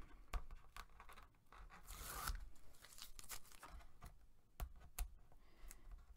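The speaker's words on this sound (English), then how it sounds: "let's take the backing off of all of our tape" Backing paper being peeled off strips of tape while making a gift box, faint tearing and scraping with crisp clicks and rustles coming in irregular bursts, no talking.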